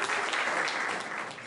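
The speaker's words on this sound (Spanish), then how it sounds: "Recibámoslo con un fuerte y caluroso aplauso a nuestro invitado." A seminar audience greets a guest speaker with dense, sustained clapping that stays steady throughout the short stretch, thinning slightly near the end.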